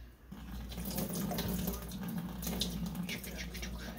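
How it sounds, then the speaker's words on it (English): Water poured out of a Nostalgia mini egg cooker into a sink, a steady close splashing stream lasting several seconds over a low background hum. "Now I am dumping out the water that was in here."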